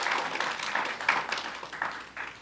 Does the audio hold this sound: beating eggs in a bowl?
no